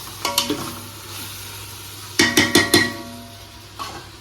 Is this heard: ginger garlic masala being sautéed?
yes